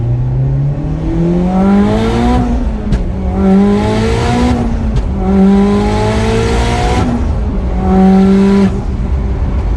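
Turbo-upgraded Mitsubishi EVO X pulling hard through short gears, its engine rising in pitch with each gear, dropping at each shift and climbing again, loud and close from start to finish with no talk.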